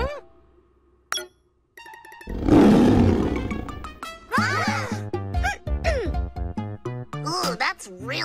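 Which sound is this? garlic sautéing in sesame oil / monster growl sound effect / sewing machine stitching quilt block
monster growl sound effect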